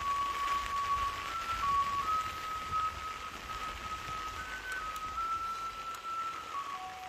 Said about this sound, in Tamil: இப்போ வந்து காற்றோடு வந்து மழையும் வந்து இருக்குது.